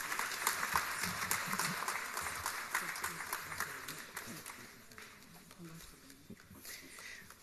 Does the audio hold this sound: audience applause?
yes